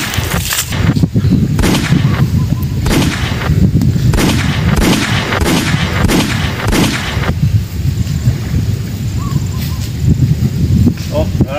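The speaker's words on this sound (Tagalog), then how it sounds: "May putok, Dad! Basta si Don Pipito rin nagpabuto." A rapid series of sharp bangs from firecrackers or gunshots, about a dozen loud reports in quick irregular succession that thin out, with wind-like noise and voices in the background.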